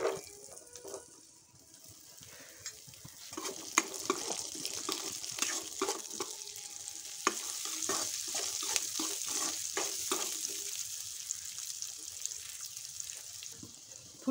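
Carrots and yardlong beans cook in a pan with a steady hiss of frying, broken by a series of quick scraping and stirring knocks through the middle.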